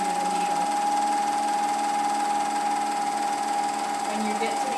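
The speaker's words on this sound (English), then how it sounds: "with a serger, it's not like a sewing machine. You can stitch without anything under the needle." A serger overlock machine stitches fabric with a continuous, fast, steady mechanical whir and hum, running close and loud without pause.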